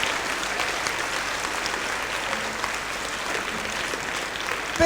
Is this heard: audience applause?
yes